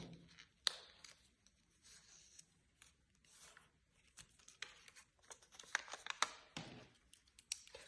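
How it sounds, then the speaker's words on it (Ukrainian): Soft, irregular snips of scissors cutting a paper strip, with paper rustles, close and quiet, with a few sharper cuts scattered through; no talking. "ножицями від себе обережно розрізаємо"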